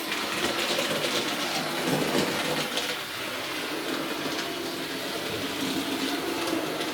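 A smooth-running model train travels over Peco track in a fiddle yard, a continuous soft rolling rumble and hiss with faint clicks, steady and close with no voices.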